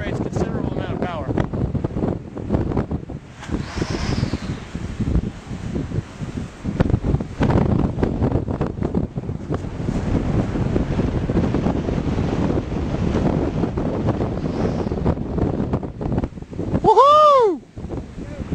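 Wind of about 20 mph roars across the microphone while a 3-meter HQ Rush Pro trainer kite is flown outdoors, a loud, gusty rumble throughout, with a voice whooping briefly near the end.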